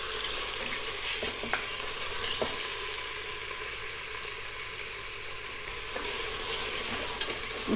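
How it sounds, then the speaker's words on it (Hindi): Mutton pieces fry in hot oil inside a pressure cooker as they are stirred, giving a continuous loud sizzle broken by a few sharp scrapes and clinks of the spoon against the pot. "इसे 5-6 मिनट हम इसी में फ्राई करेंगे।"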